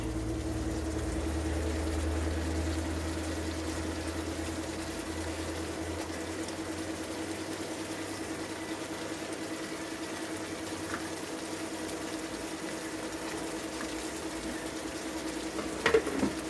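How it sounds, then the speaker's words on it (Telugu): Small eggplants fry in a pan with a steady, close sizzle and low bubbling that runs unbroken throughout, ending with a brief clink near the end, no talk. "దీనిలోకి మనం ఈ వంకాయలు వేసేసుకుందాం"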